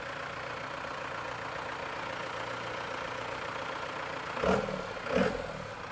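A 1981 Dodge D150 pickup with a swapped Cummins 4BT diesel idles steadily at a truck gathering, with two short revs near the end standing out above the low, even rumble.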